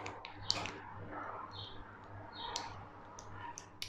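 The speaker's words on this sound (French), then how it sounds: "Je vais mettre un petit coup de ciseau pour enlever le plastique qui est dedans." Scissors snip away excess plastic around holes drilled in a plastic base for an ant water trough, giving scattered quiet clicks and snips at close range over a low background hum.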